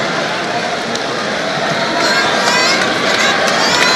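Arena crowd of Ginebra fans at a Philippine basketball semi-final, a dense sustained roar of cheering and chatter that swells louder halfway through, no clear voice above it.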